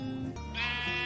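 A sheep in the Minecraft video game gives a short, clear bleat, close and fairly loud, with a wavering pitch and a second rising cry, and no talking over it.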